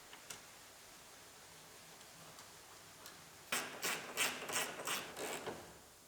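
A ratchet clicks in quick bursts while bolting a C7 Corvette headlight into place, crisp and close against a quiet background after a few faint ticks.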